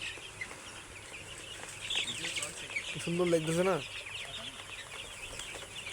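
Young Sonali chickens, about thirteen days old, cluck and peep around a farmyard, soft and scattered, while a person talks over them.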